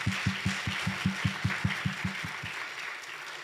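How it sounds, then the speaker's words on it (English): A congregation at a Sunday church service claps, with sharp strong claps in a steady, even rhythm over a soft wash of background clapping, fading toward the end. "Let's applaud for that."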